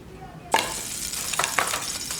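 Oil in a frying pan for chicken malai boti breaks into a sudden loud sizzle and then keeps hissing steadily up close, with a couple of crackling spurts.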